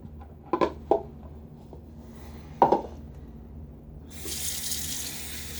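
Tap water runs into a bathroom sink, rinsing leftover shaving soap lather down the drain, with a few soft clinks before a steady close stream.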